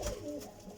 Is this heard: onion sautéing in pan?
no